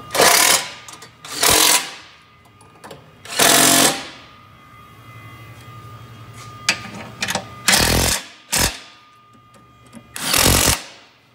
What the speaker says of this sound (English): This is a nice little electric ratchet.